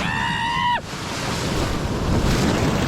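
Ocean surf rushes and roars continuously along the shore under heavy wind buffeting the microphone, loud and close, after a short tonal whine at the start.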